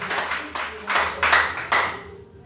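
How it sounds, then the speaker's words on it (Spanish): In a church, a few pairs of hands clap in uneven bursts, roughly four close, swelling pulses of clapping that fade out at the end. "dale un fuerte aplauso a aquel que te llamó"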